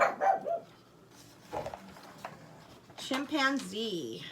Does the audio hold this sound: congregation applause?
no